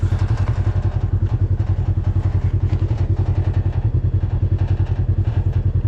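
A 2015 Polaris RZR XP1K side-by-side engine runs steadily nearby with a fast, even pulsing throb and a light mechanical clatter, holding a constant speed throughout with no talking.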